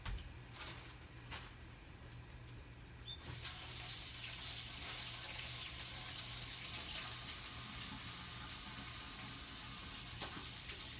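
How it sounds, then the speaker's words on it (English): Running tap water pours steadily into a kitchen sink as hands are washed before cooking turnip greens with smoked turkey, a constant hissing splash that swells louder after a clunk of the faucet, heard alone without talk. "and wash my hands"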